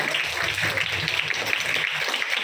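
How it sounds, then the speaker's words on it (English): Students at a school personality-development seminar clap for themselves, a dense, moderately loud patter of applause throughout the short stretch, with no talk over it. "Give a round of applause for yourself."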